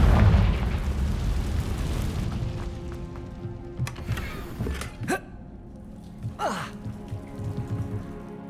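A Confringo spell explosion in Hogwarts Legacy opens with a heavy, rumbling blast that fades out, followed by scattered sharp pops and whooshing game effects.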